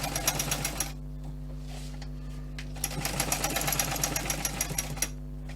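An old sewing machine stitching a multi-tool pouch runs in rapid mechanical bursts, with a brief pause near the start before the close, loud chattering resumes; no talking.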